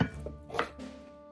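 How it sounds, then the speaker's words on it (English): A carrot being chopped on a board, giving a few quick knife thuds in close succession, close and brief with no talk. "and chop 1 carrot"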